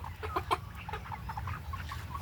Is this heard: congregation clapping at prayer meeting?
no